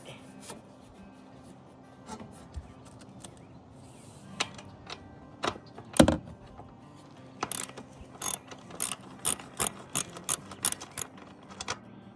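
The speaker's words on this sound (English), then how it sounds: "One of the more awkward positions in which I've turned a wrench, if I'm honest." A ratchet wrench being turned while fabricating a camp upgrade, with a long run of sharp, close clicks: scattered at first, then a steady, evenly spaced series toward the end.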